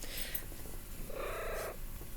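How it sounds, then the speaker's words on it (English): Pebbles, a pet cat, purrs softly and close up in a steady rumbling rhythm, with a brief brighter rustle partway through and no talking. "this is my cat."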